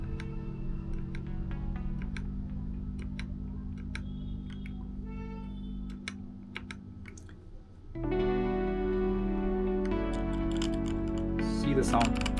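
Sparse, crisp keystroke clicks from an EvoFox Ronin wireless TKL mechanical keyboard, tapping irregularly under steady background music that grows louder partway through.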